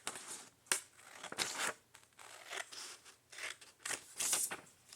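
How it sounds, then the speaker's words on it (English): Scissors cut out a paper picture for a junk journal, giving close, crisp snips and rustles in an irregular rhythm, with paper crinkling between cuts and no talk. "now I'm going to go ahead and cut out this picture"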